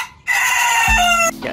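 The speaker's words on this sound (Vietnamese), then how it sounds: "Trời ơi, gà này." A Pháp breed rooster crows once, close and loud, a drawn-out call that ends in a lower held note.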